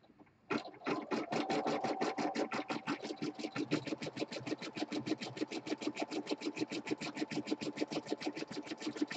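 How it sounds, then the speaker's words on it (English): A sewing machine runs a zigzag stitch around an appliqué letterman patch letter, starting up and then hammering along in a fast, steady, close rhythm for several seconds. "We're going to go ahead and do that outline zigzag stitch to tack the whole letter down"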